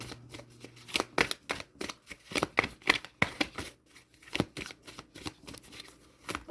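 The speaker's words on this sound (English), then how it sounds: "let me just get these cards shuffled and organized" Tarot cards being shuffled by hand, a quick run of crisp riffles and soft slaps close up, in bursts with short pauses between, no voices.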